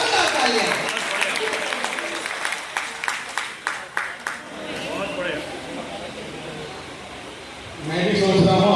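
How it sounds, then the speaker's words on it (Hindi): Audience applause at a patriotic poetry competition, a broad wash of crowd clapping that thins into a few separate loud claps, then a quieter stretch of murmuring before the clapping swells again near the end. "मैं चाहता हूं जोरदार तालियां।"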